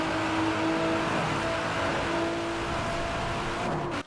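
Simulated Nissan GTR engine from the Forza Horizon 4 racing game, tuned to 1,000 horsepower, holding a loud steady drone with a sustained tonal whine throughout, alone without talk.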